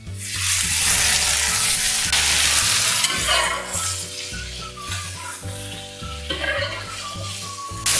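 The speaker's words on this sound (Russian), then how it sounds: "жарим довольно быстро, интенсивно, помешиваем, как это делают китайцы со своей уличной едой" Vegetables sizzle loudly in a hot pan over high heat, stir-fried fast, with steady hiss and repeated scraping and clanking as they are stirred and tossed.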